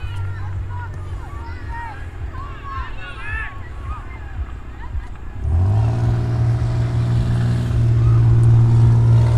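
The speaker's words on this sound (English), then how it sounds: "I remember when I had a car that sounded like that." A car engine suddenly revs up about halfway through and holds as a loud, low, steady drone that swells slightly near the end, with people talking and background chatter throughout.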